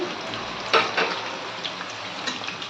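Dried red chillies broken in two, frying in oil for tempering a tomato chutney, give a steady close crackle and hiss with a few louder sizzling pops.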